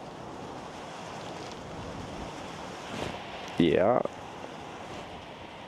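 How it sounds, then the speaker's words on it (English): Wind blows outdoors beside a road in Norway, a steady broad rush of gusts against the microphone, while a voice speaks briefly partway through. "Wind's picking up."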